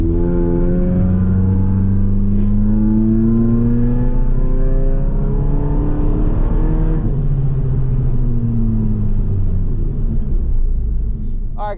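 A fourth-generation Mitsubishi Eclipse engine revs up through rising pitches, eases off, then climbs again, a loud continuous drone heard from inside the car.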